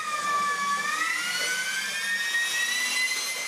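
An electric ducted fan on a one-ball balancing bike blows with a loud, steady, jet-like whine whose pitch sweeps gently up and down over a constant airy roar, close and continuous.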